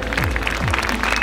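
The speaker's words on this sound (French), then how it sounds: "moi je vous propose de vous applaudir" A crowd claps steadily and densely at the departure village of the 2017 Trophée Roses des Sables rally, with a low tonal drone running underneath the applause.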